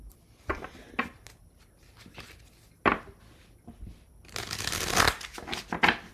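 Tarot cards are shuffled in quick bursts of riffling and flicking, close by, with short pauses between and a longer, louder riffle near the end.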